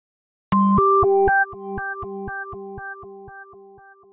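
A synth plays a repeating note, its echoes repeating in a steady, fading rhythm as a delay trails off after the first struck tones.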